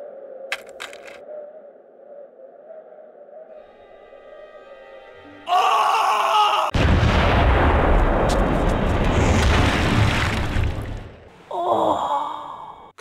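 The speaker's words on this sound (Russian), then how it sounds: "А в третьего, и тут попрошу внимания, стреляет из пушки" Cannon fire in the video game Dracula 2: The Last Sanctuary. Quiet ambience gives way to a sudden loud blast with a long rumbling roar, which then fades into a brief metallic ring.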